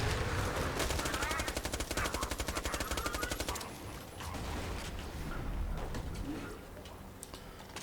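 SMG gunfire in Borderlands 2: a fast, even run of loud shots for a few seconds, then it stops and quieter game noise carries on.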